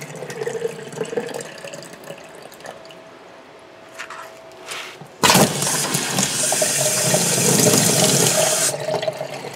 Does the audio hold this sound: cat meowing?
no